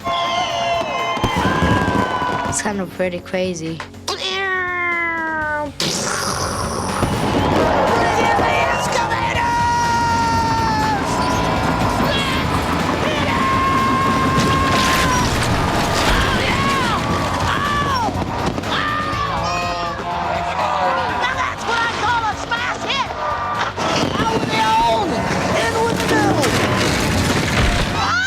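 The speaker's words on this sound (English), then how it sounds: "It's just really shocking to see the house just go, you know, with the fireworks." Fireworks burst over a house during a home makeover reveal, a loud, continuous stretch of booms and crackles with a crowd cheering, and people talking over it.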